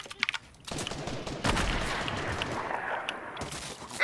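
Sniper and assault rifle fire in a video game, a few sharp cracks followed by a dense rolling burst of gunfire, moderately loud and close.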